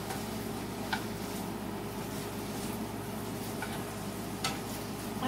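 Steak sizzles in a pan with a steady frying hiss, plus a few faint clicks and scrapes from stirring, close by and without talking.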